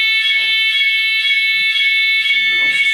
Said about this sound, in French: Il nous fallait une alarme.